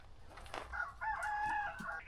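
At a chicken sanctuary a rooster lets out a fairly faint crow, stretched over about a second after a brief cluck, with other chickens around.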